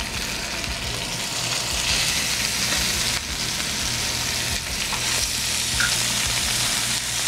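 Chicken pieces laid skin side down sizzle steadily in hot oil, a dense, crackling hiss that runs continuously and fills the space close up, with no talking.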